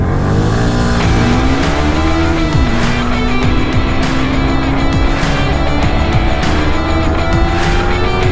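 An Apache 310 motorcycle races on an Indian road, its engine droning loud and close with rising revs and rhythmic gear-change surges throughout.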